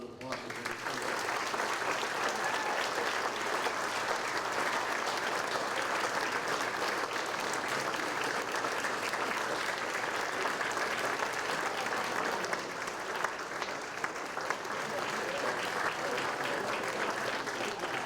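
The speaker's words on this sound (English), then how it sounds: "ladies and gentlemen, round of applause for her" A seated audience at a USA Softball Hall of Fame ceremony claps in dense, sustained applause that stays even and continuous throughout, filling the room without letup.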